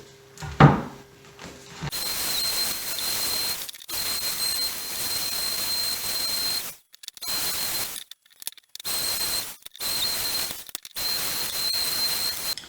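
A wood planer cuts down a cutting-board blank in several bursts of loud, hissing cutting noise, separated by brief pauses, close up and with no talk.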